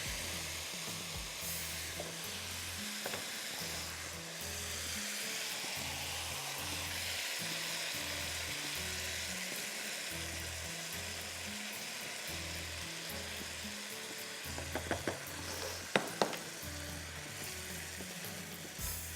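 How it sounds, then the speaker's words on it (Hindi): Spices sizzle in hot oil as a tarka is prepared for daal, a steady quiet frying hiss running throughout with a few brief clinks near the end. "इसको हमने पहले तड़का लगाया, आखिरी में हम इसमें दाल डालेंगे।"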